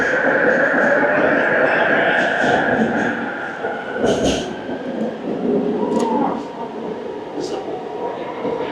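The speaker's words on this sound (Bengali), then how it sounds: "চলে এসছে আমাদের ট্রেন" An LRT train pulling into the Pasar Seni platform in Kuala Lumpur, a loud steady rumble and whine with rail clatter and occasional squeals, while people talk nearby.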